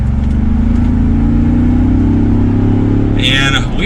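Land Rover Defender 90 accelerating, a steady loud engine drone rising in pitch as it gains speed, heard from inside the cab, with a brief high whine near the end.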